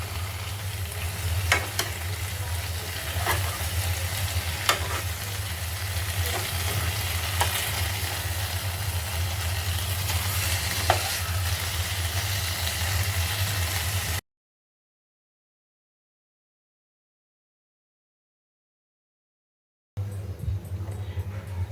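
Stuffed pomfret fish frying in oil in a pan gives a continuous close sizzle with occasional small pops and clinks, then cuts to silence before the frying noise briefly returns.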